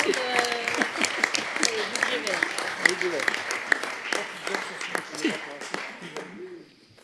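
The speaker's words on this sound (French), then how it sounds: "si vous voulez applaudir votre collègue, allez-y." Council members at a municipal council meeting applaud a colleague, a dense patter of close hand claps with voices talking over it, thinning out toward the end.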